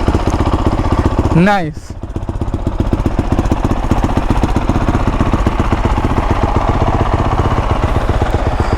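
A 2019 Honda CRF450R dirt bike engine starts from cold and settles into a loud, close, rapid thumping idle that keeps a steady rhythm, after a brief burst of spoken voice near the start.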